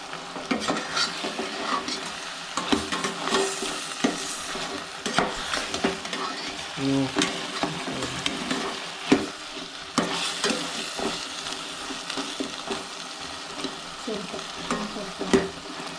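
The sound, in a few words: chicken frying and being stirred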